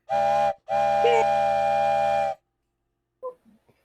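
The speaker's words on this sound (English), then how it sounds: "it would help if Aiden didn't consistently blow the fucking whistle." A loud, shrill steam whistle blows twice, a short blast then a longer one, followed by brief faint clatter.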